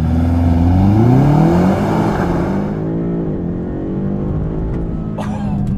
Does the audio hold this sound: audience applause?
no